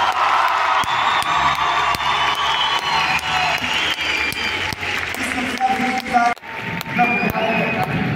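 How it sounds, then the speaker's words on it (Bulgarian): A studio audience at a Bulgarian television show claps and cheers loudly and steadily, with whoops and shouts mixed into the dense applause and voices talking over it. "Силни аплодисменти и на Георги първи"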